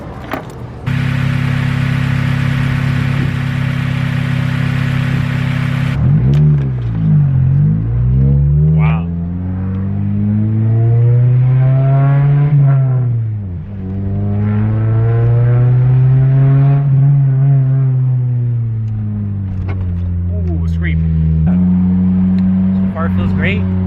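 Acura RSX Type-S engine running after a new Stage 2 clutch kit install, a steady idle hum with a long rising and falling rev in the middle, loud and close.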